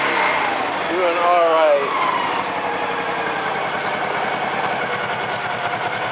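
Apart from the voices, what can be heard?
Honda Pacific Coast PC-800 motorcycle engine running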